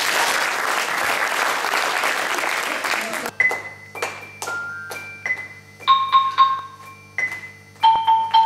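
Applause for school groups 5 and 6 at a school concert: a crowd claps loudly for about three seconds, then it stops abruptly and clear, ringing percussion tones follow in short struck phrases.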